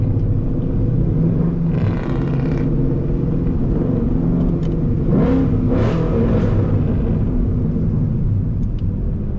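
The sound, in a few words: Ford Mustang S550 car engine revving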